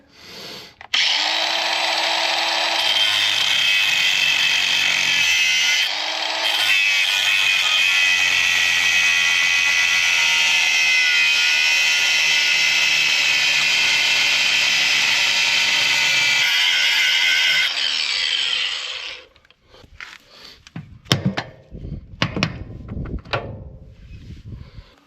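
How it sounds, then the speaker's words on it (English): An angle grinder cuts off a long-seized bolt head on a Mitsubishi L300 4x4 van's locking hub, a loud sustained high whine for about eighteen seconds, then spin-down and scattered metallic clanks. "so I'm going to have to get the grinder and cut the head off that"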